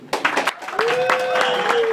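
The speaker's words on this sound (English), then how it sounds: "I want this side of the room to clap for this side of the room." A comedy club audience at Yuk Yuks applauds one side of the room for the other, with scattered close claps under a talking voice.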